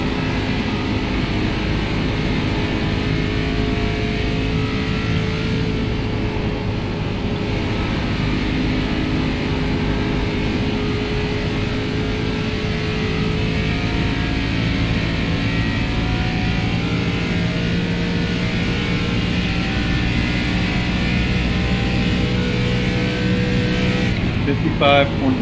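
ARCA race cars lap Indianapolis in a racing video game, a steady loud engine drone holding nearly constant pitch throughout, with a faint voice over the top.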